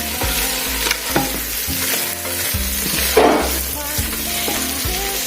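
Cut sausage pieces fry in a pan with a loud continuous sizzle, while a utensil scrapes and knocks through the food in repeated rhythmic strokes, close up and with no voices.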